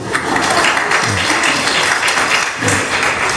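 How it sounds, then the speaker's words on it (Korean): A church congregation claps loudly for the broadcast team, a continuous close burst of applause with occasional heavier thumps. "우리 방송팀에 박수 한번 해주세요."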